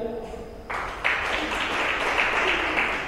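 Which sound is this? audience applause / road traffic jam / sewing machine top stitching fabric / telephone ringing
audience applause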